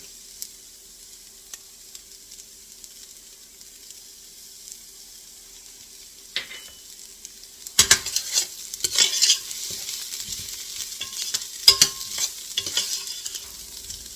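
Basil goes into a pot for tomato soup: quiet at first, then a sudden burst of sizzling and stirring clatter that continues loud and crackly for several seconds, with no talking.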